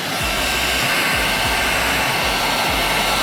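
A heat gun set on low, used while blacking out the rear of a 2012 Camaro SS 45th anniversary, blows with a loud, steady close airy roar and a faint low pulsing beneath, uninterrupted throughout.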